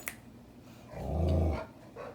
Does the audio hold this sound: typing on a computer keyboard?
no